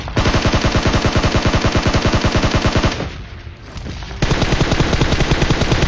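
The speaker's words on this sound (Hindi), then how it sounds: "तभी मेरे को जो है मेरे राइट साइड से कुछ फायरिंग की आवाज़ आती है" Rapid automatic gunfire in the Garena Free Fire video game, loud and continuous close-range bursts that dip briefly in the middle and then resume at full force.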